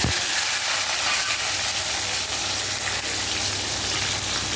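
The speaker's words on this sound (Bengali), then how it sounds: "এবার এর মধ্যে দিয়ে দিচ্ছি পরিমাণ মতো হলুদ আর পরিমাণ মতো নুন দিয়ে একটু ভেজে নিচ্ছি।" Potato and pointed gourd frying in hot oil in a kadai with turmeric and salt, a loud, dense sizzle that runs unbroken and close throughout.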